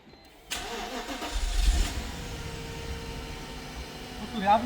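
An old Mercedes SL 500 cranks and fires up, with a sudden catch of the engine after a quiet moment, then a rough, loud rev that settles into a steady idle rumble.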